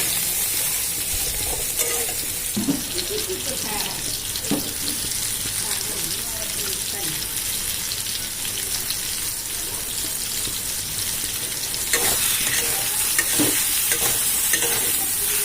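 Soybean chunks with turmeric and salt fry in a pan with a constant close sizzle, while a spatula stirs and scrapes now and then. A brief burst of running water joins in partway through.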